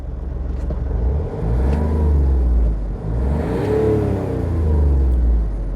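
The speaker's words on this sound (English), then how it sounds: "the engine purrs into life" A Smart car's small diesel engine idles steadily with a low, continuous rumble and a faint whirring, with slight swells in pitch as it runs.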